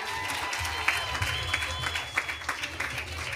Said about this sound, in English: Just give them a hand of applause.